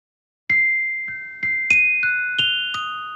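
A sampled glockenspiel from the Cinematique Instruments Ensemblia Métallique library taps out seven bright, bell-like notes in a quick, lilting figure, each ringing briefly over the next, crisp and close with no voices.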